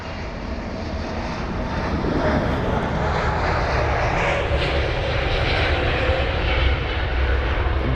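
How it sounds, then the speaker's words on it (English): A Lufthansa Airbus A320neo jet departs London Heathrow, its engine roar building and holding loud and steady throughout, a broad continuous rumble with no talk over it. "There's a Lufthansa A320neo. That's on its departure."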